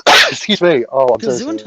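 A single loud, breathy sneeze bursts out at the very start, followed immediately by apologetic speech in a close, indoor setting.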